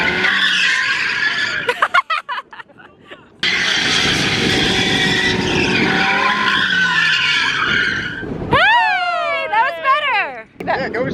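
A Mazda Miata drifting on a cone course, tires screeching in long loud squeals with engine noise, broken by gaps and sharp wavering squeals near the end, while people talk over it.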